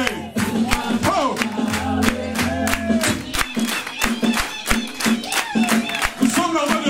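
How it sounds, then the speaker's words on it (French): A church congregation shouts praise to the Lord with no music, loud massed cries and whoops surging in repeated waves, with claps and individual voices breaking through the crowd. "Sans musique, sans chant, nous allons savoir acclamer"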